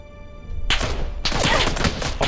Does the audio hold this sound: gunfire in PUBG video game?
yes